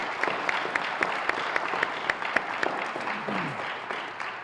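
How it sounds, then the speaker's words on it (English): Audience applause for third-grade spelling bee participants, steady clapping from a modest crowd in a hall, with a few sharper individual claps standing out rhythmically and a brief voice near the end. "they absolutely deserve a round of applause already"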